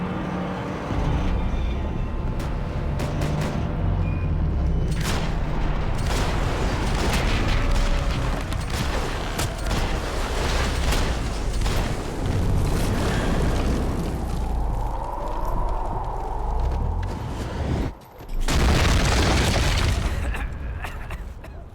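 Gunfire in a Max Payne 3 shootout on PC: dense, loud bursts of shots and booming impacts run almost continuously over a rumbling game backdrop, with a brief drop near the end before the firing resumes, and voices are heard faintly.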